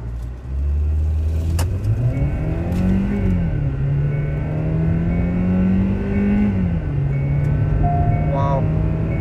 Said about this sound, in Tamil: அந்த 4 சிலிண்டரோட சவுண்ட் பார்த்தீங்கன்னா அல்ட்டியா இருக்கு.